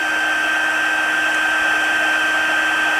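An embossing heat tool blows a steady, even whir at close range while melting emboss powder on a stamped Christmas card, with no breaks or talk.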